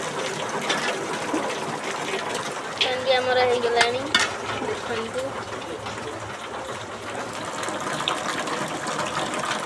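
A hard downpour of rain, with rainwater carrying fish along, makes a constant rushing hiss close by while a person talks over it throughout.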